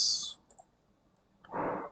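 A computer mouse is double-clicked while designing a UI dashboard for a healthy-eating app: a quick, faint pair of clicks sits between a brief hiss at the start and a louder broadband rustle near the end.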